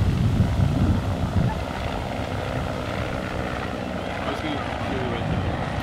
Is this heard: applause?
no